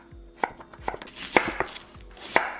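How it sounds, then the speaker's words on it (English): A knife slices zucchini into half moons on a cutting board, giving six sharp, evenly spaced chops at close range with quiet pauses between them. "you want to slice them into 1/2 moons"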